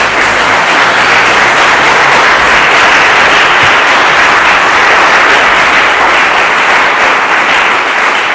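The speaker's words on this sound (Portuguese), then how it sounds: "Vamos aplaudir Jesus?" A church congregation applauds together during a worship service, a dense, steady wash of clapping that fills the room at an even loudness from start to finish, with no voices rising above it.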